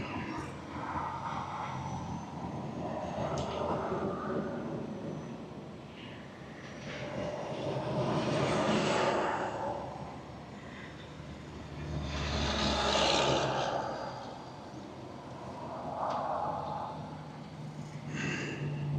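A semi truck's diesel engine pulls slowly in creeper gear while crossing, a steady low rumble that swells and fades in broad surges over about nineteen seconds, fairly distant and without speech.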